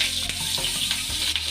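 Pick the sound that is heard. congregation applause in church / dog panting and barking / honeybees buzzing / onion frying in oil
onion frying in oil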